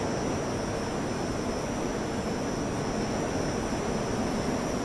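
A Canberra jet aircraft in a flight simulator game, climbing fast, gives off a steady, loud roaring rush of engine noise with a thin high whine, unbroken and even throughout with no voices.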